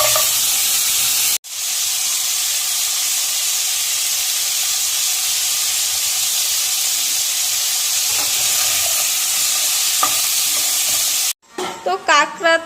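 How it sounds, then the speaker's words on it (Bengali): Crabs frying in hot oil in a pan make a steady, loud sizzle and hiss that runs almost unbroken for about ten seconds. It ends with a short pause and some clattering. "এখন আমি কাঁকড়াগুলো ভেজে নেব।"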